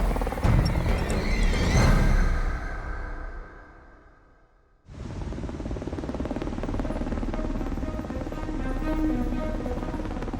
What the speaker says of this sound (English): a US Air Force Pave Hawk helicopter is low on gas